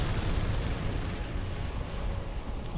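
A bomb explosion in the video game Command & Conquer Generals Zero Hour rolls out as a sustained, loud, deep rumble that holds steady throughout.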